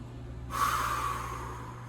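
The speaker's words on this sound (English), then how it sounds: "let's take 3 deep breaths" During a yoga session, one sharp, forceful breath bursts in suddenly and then trails off slowly over a low, constant background hum, with no talking.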